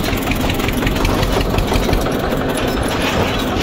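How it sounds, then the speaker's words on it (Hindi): An Eicher 241 Xtrac model tractor engine runs loud and close, a steady rough diesel chug with dense knocking pulses that holds evenly throughout, with no voices over it. "एक बार करते हैं ट्रैक्टर को थर्ड गियर में लगा लेते हैं"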